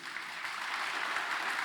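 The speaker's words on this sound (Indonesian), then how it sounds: "Saudara kehilangan kesempatan untuk bertepuk tangan buat Tuhan Yesus." A church congregation at a Sunday service applauding together, a dense, steady wash of many clapping hands filling the room for a short burst.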